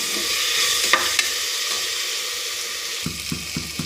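Ginger garlic paste fries in hot oil for a Sunday mutton curry, giving a continuous close sizzle with a couple of sharp clinks and, near the end, a few rhythmic scraping stirs. No one speaks.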